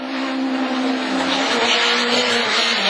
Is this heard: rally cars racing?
yes